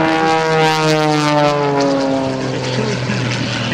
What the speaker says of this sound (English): He goes into knife edge flight and points it down on the 45, rolls the airplane upright